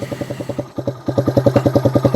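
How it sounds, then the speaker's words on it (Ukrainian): A Skybike Liger 2 motorcycle engine idles nearby with a steady, rhythmic putt-putt-putt, its regular pulses briefly faltering before resuming a bit louder. "Працює мотоцикл"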